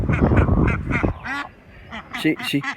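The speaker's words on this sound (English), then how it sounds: "Old mama duck down here." Someone talks briefly, then a mother duck in a barnyard quacks nearby several times in short raspy bursts.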